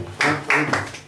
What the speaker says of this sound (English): Clap with me. First 2 on the beat.